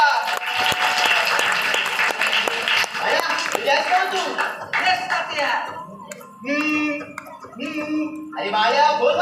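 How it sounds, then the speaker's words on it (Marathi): An audience claps steadily through a village one-act play staged for a Satyanarayan puja at Shri Teleshwarnagar, dense applause for about four seconds before it thins and voices take over. "फक्त टाळ्या वाजवा टाळ्या लोकांनी टाळ्या वाजवा"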